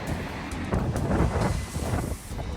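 Strong gusty wind on a beach in Ireland buffeting the microphone in a continuous roar, with a low surf-like rumble underneath and no voices.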